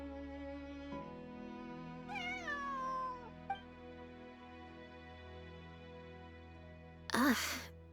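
A cat named Bonnie in Genshin Impact gives a single drawn-out meow, faint under a low background hum, followed a few seconds later by a brief louder burst of noise.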